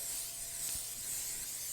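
Cooking spray hissing from a can into a baking pan for a Fanouropita, a steady close airy hiss lasting under two seconds with faint mechanical clicks underneath.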